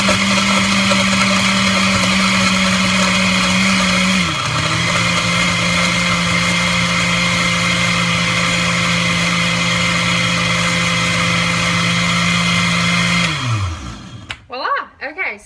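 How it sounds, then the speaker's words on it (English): A blender runs loud and steady while mixing a Shakeology shake, its motor drone holding level with a brief dip partway, then winding down and stopping at the end. "put the blender on"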